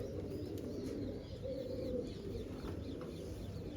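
Rajan-line pigeons in a loft give a continuous low cooing drone, with a few faint chirps above it, steady and close throughout with no voices.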